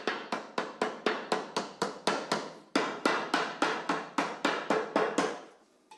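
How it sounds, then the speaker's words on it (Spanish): A rubber mallet taps solar panel flashing down onto roof tiles in a steady run of about twenty sharp, close knocks, with one short pause partway through and no talk. "Adaptamos el babero a las tejas con la mano o golpeando suavemente con un martillo elástico"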